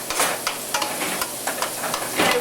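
A pot boiling and bubbling on a home stove during Thanksgiving cooking, heard as a steady close hiss and seething with soft irregular bubble pops and stirring clicks, no voices.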